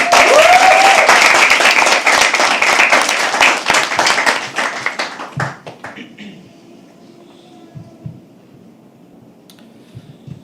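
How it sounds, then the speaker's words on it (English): An audience at a live poetry open mic gives loud, dense applause for about five seconds, thinning to scattered claps and then quiet, with a brief voice near the start. "Can we please have another round of applause?"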